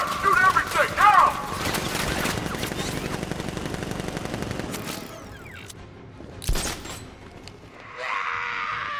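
Gunfire erupts in the Batman Arkham Knight video game, dense bursts of machine-gun fire with shouted voices over it, thinning out toward the end while other game sounds continue.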